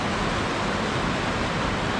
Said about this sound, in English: Beautiful waterfall on the way down.